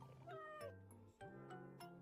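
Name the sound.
big cat meowing in a YouTube video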